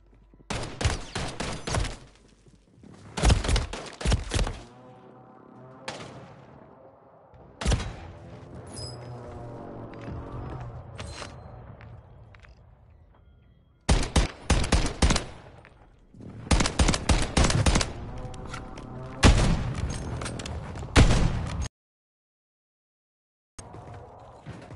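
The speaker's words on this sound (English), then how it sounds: "Enemy precision airstrike." An enemy precision airstrike in Call of Duty Warzone (Modern Warfare 3): clusters of loud, sharp blasts in rapid volleys, separated by short gaps of lower rumbling, ending in sudden silence.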